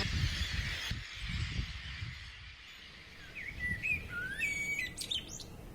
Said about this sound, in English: just standing and listening to all these terns making such a racket